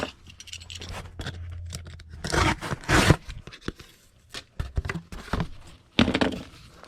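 Cardboard for packing a shipment is cut down by hand, heard as close scraping, tearing and cutting bursts with brief thunks and short pauses between strokes.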